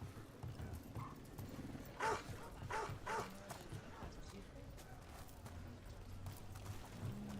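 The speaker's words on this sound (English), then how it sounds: "Can I pet that dog?" Dog in the video game Dragon Age: The Veilguard giving a few short barks and yips against a quiet game ambience, mixed with clip-clop-like footsteps and faint voices in the background.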